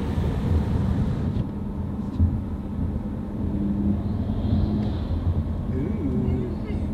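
An Audi TT RS engine with a carbon fiber intake drones steadily at low pitch from inside the closed cabin, a continuous muffled rumble with slight swells.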